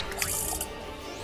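A splashy, bubbling water spell effect from Final Fantasy X washes out in a brief bright burst, then trails off into a steady liquid hiss.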